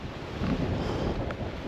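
Cold wind blows across open mountain terrain in Torres del Paine, Patagonia, as a steady buffeting rush with gusty microphone rumble, continuous and fairly loud, with no talking.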